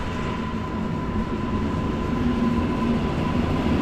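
A steady rumble of a train passing through Warszawa Wschodnia station, with a faint high whine held throughout and no voices.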